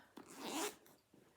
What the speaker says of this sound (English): The front zipper pocket, open that up